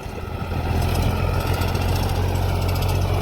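Tractor engine running in low gear while pulling a duck foot plough through a field, a loud, close, steady rumbling drone with no talking.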